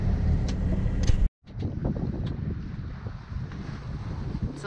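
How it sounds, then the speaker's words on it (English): Wind rushing over a sailboat at sea off Sardinia on a beam reach in 10 to 15 knots, a broad blustery roar buffeting the microphone, with a brief dropout before the rumble resumes. "We have like just between like 10 and 15 knots of wind, and it's coming at a beam."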